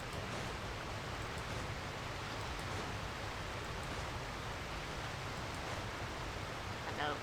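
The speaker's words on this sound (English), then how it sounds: "And the waterfall is so loud." Loud, steady rush of a waterfall in the video game Genshin Impact, near a harbor waterfront, forming a dense, unbroken wash of water noise that fills the whole scene.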